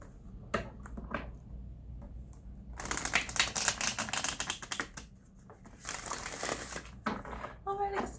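Cards being riffled and shuffled in several quick bursts, crisp fluttering clicks separated by brief pauses, close by.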